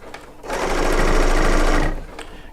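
A serger sewing machine feeds fabric for quilting in a close, loud, steady whir lasting under two seconds, with a brief start and stop and faint talk around it.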